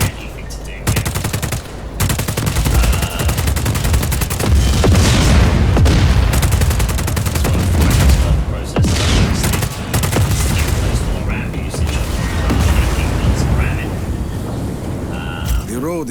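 A standard-issue Black Hand service rifle with an underbarrel grenade launcher in a video game fires in sustained, loud automatic bursts with booming blasts, nearly continuous for the whole stretch, with voices underneath.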